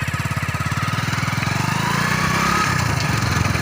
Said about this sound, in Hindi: ये मोटरसाइकिल है शाह साहब।